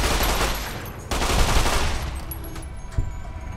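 Sustained gunfire from Fallout New Vegas rattles almost without pause, loud and dense, with a slight drop midway and a single sharper crack near the end.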